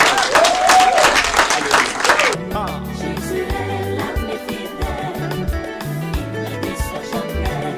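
Congregation applauding at a Congolese wedding anniversary celebration, loud dense clapping and cheering for two seconds, then giving way to music with a strong rhythmic bass.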